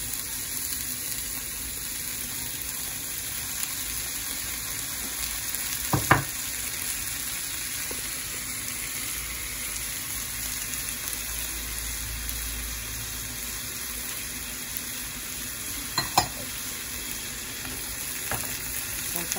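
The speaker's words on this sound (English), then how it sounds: "I'll try to mix it, make sure that all the vegetables get some of those seasonings." Yellow squash and corn with spices frying in a pan, a steady sizzle running throughout with a few sharp clinks and scrapes of stirring, no voices.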